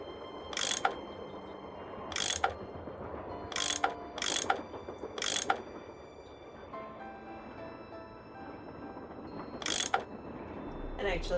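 A tool unscrewing bolts aboard a train in the game Last Train to Blue Moon Canyon gives sharp, repeated ratcheting clicks in short irregular bursts, fairly close, over a quiet mechanical hum.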